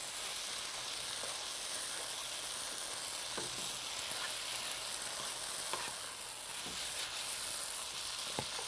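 A burger and a pan of cherry tomato jam sizzle and fry together in a steady, dense crackle with a few sharper pops, close and constant with no talking.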